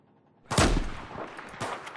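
Battlefield 4 multiplayer gunfire: a loud shot bursts in near, then decays into a rumbling tail, with a second weaker crack about a second later.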